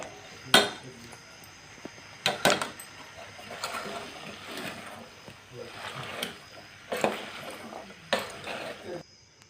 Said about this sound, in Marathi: आता आपण याला मिक्स करून घेऊ चमच्याने हलवून घेऊ